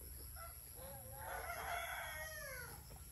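A rooster crows once in a long drawn-out call, fairly close and clear over a low steady background hum.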